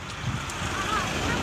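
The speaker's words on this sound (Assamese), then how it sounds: "একদম ঠাণ্ডা বতাহ মাৰি আছে" A cold evening wind blows across a river bridge, making a steady rushing roar with buffeting against the microphone, and a voice is faintly present.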